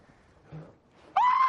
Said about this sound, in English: That sound, that scream